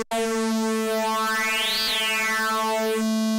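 A Korg minilogue xd holds one sustained note on its VPM multi-engine with an aggressive digital waveform, a bright buzzy harmonic tone whose metallic overtones sweep up and back down, steady and loud throughout.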